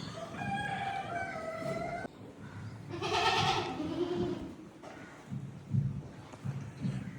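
Goats bleat in a busy pen among sheep, with a loud bleat in the middle standing out over scattered cries and low rustling.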